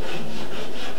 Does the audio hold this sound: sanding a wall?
yes